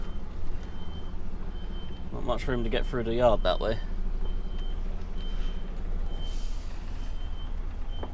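A large truck reverses slowly out of a tight yard gateway, its steady reversing beeps and engine rumble running throughout, with a hiss of air brakes and someone talking briefly over it.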